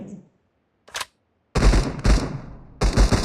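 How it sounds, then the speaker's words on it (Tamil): Gunfire in the mobile game BGMI rings out in sharp, loud bursts, a short isolated shot followed by two longer rapid volleys separated by brief silence. "சுட்டுட்டே இருக்கணும். நிறைய புல்லட் தேவைப்படும்."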